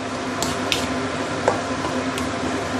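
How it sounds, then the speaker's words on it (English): Fried chow mein noodles are stirred in dark soy sauce, giving a few soft, wet squishes and light clicks over a quiet, steady background hum. "Let's give it a good stir."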